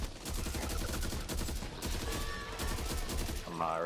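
Rapid bursts of automatic gunfire ring out steadily in the zombie shooter game Back 4 Blood, sounding close by, with a brief voice near the end.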